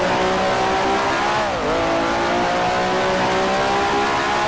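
A 1967-era Grand Prix racing car at Monza in Grand Prix Legends holds a loud, buzzing engine note, dipping briefly as the revs drop and then climbing again under throttle, with no talking.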